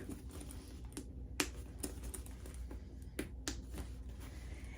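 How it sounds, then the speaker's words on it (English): A Derica handbag's magnetic snaps click shut in a series of crisp, close snaps spread irregularly over a few seconds, with a quiet background and no talking. "it's held together for its unique shape with these magnetic snaps"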